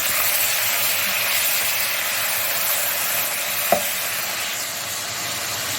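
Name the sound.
ginger garlic paste sizzling with browned onions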